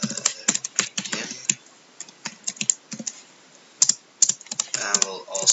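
Computer keyboard typing while entering C# XNA code: a steady run of quick, close, crisp key clicks in irregular bursts with brief pauses, loud and alone with no talking.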